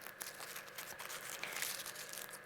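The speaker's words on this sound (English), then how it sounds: "Take another piece, crumple it," Soft, close crinkling as a piece of craft material is crumpled by hand for a rainbow beanie project, a continuous papery rustle with no talking.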